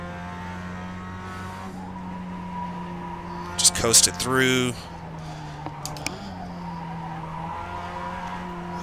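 Mazda MX-5 driving in the iRacing sim on the Charlotte infield course: a steady engine drone, then a loud burst of tire squeal and skidding mid-clip before the engine settles again, with someone talking briefly over it.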